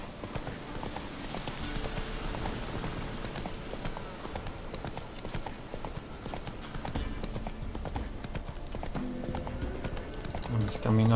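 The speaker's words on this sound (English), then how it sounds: "Come on, Roach." Horse hooves galloping in a steady rapid clip-clop rhythm in The Witcher 3: Wild Hunt video game, continuous and fairly loud under game ambience, with a voice speaking.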